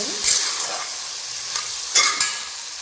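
Eggplant and tomato sizzle in a pan for a biryani, with a soft steady fry and a few brief scraping stirs of a spoon against the pan, heard up close and alone.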